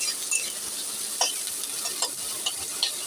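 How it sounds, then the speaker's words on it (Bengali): Bitter gourd and potato frying in a pan with poppy seed and red chili paste, a steady soft sizzle with a few light stirring scrapes at intervals, close and alone. "একটু লাল লাল করে ভাজা হোক।"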